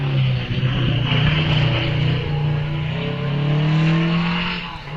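A Riley TT Sprite replica race car leaves the start line at Wiscombe Park hillclimb, its engine revving loudly and climbing in pitch through several gear changes as it pulls away.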